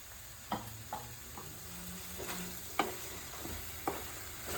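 Mushroom masala sizzles steadily in a pan while a spoon stirs it, giving a few distinct scraping knocks over the constant frying hiss, close and fairly quiet.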